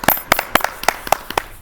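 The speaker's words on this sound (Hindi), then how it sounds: "एक बार फिर से जोरदार तालियों से अभिवादन" Scattered applause at an Independence Day poetry gathering, a handful of sharp separate claps at an uneven rhythm, close and fairly loud.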